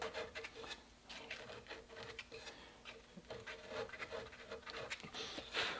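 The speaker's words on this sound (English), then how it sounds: "I'm just rolling the file and the sandpaper" Quiet, steady rasping and rubbing of a file and sandpaper rolled back and forth on a small metal cap, stripping it, close up, no speech.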